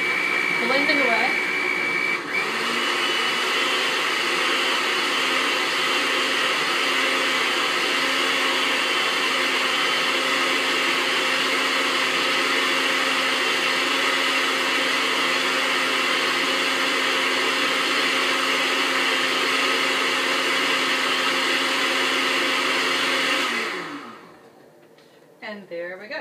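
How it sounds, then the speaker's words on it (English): A home countertop blender, an ordinary non-premium model, whirs steadily while blending a dinosaur kale and green tea smoothie, a loud continuous motor roar that holds for about twenty-three seconds before cutting off abruptly. "We've got everything in our blender"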